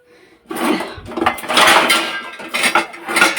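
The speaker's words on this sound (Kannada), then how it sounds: "ಪಾತ್ರೆ ಕೂಡ ತೊಗೋತೀನಿ." A cooking pot picked up and handled in a home kitchen, with several close metallic clanks and scrapes of cookware knocking together in quick irregular bursts after a brief quiet start.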